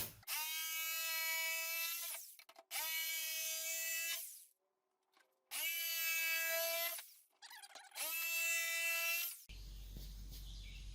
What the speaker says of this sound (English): and I'll take my jigsaw and just cut it out.